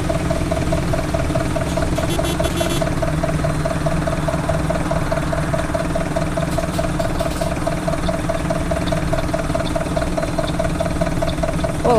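A Mercedes-Benz OF-1721 bus engine in a Marcopolo Torino body idles steadily, a loud, even diesel rumble with a constant throb and faint rattling, no voices.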